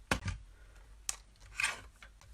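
Scissors trim paper for a mini album with three or four quiet, close snips spaced unevenly, each a short crisp cut in an otherwise quiet room.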